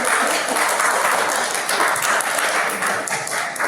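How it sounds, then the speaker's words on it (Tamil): A college audience applauds students, a dense, continuous wash of many hands clapping at close range that holds steady for several seconds without letting up. "அவர்களுக்காக ஒரு நல்ல கைத்தட்டிடலாம்"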